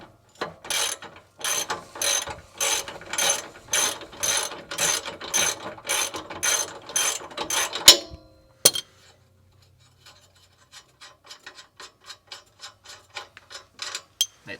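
A ratchet socket wrench loosens a muffler bolt under a 2019 Subaru WRX STi. It gives a fast, steady run of close clicking bursts, then a clunk and a pause, then fainter, quicker ratchet clicks toward the end.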